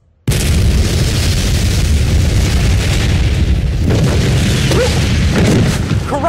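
Bombs going off in an action scene, heard as a continuous loud roaring blast with heavy low rumble that carries through the whole stretch, with brief vocal sounds near the end.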